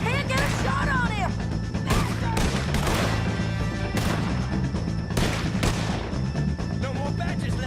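Gunshots in a Red Dead Redemption 2 shootout against O'Driscoll gang members, sharp reports cracking at irregular intervals over steady background music and game ambience, with voices in places.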